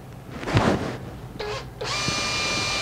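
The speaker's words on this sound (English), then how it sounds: "I'm just going to hold it against this while I drill a hole here" Power drill boring a hole in a part for a mini CNC machine build, a steady high whine starting after brief handling noises and running on loud and close to the end.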